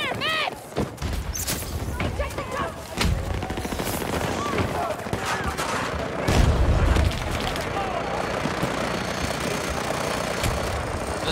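Automatic rifle fire and explosions in Battlefield 2042, a dense, continuous clatter of shots with heavy booms, loud and close, while someone talks over the action.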